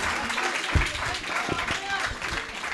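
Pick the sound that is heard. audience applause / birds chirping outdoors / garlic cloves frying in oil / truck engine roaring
audience applause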